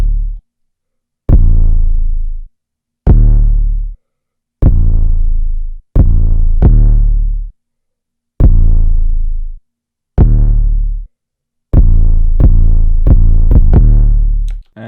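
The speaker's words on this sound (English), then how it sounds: "And then we have the 808. Sounds like this, pretty basic pattern." An 808 bass in a trap beat plays a sparse, basic pattern of deep booming notes, each with a sharp attack and a gradual decay, separated by short gaps, loud and alone.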